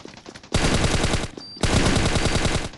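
Automatic rifle fire in the Scarfall shooter game rattles in two long rapid bursts separated by a brief pause, loud and close, with no voices.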